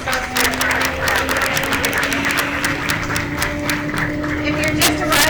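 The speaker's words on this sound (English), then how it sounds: "Give Kyra another round of applause" Steady applause from a crowd gathered at Cape Coral's 50th Jubilee celebration, a dense wash of clapping mixed with a voice over a hall PA.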